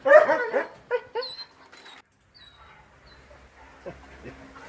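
Several dogs playing and tugging at torn foam dog beds: short barks and yips up front, then quieter whimpers, scuffling and a few faint squeaky sounds, nearby and without talk.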